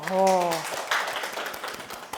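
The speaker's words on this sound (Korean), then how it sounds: "박수 한번 주십시오." Students at a youth reading and discussion club session break into a short round of applause, a light scattered clatter of hands that follows a brief spoken voice at the start.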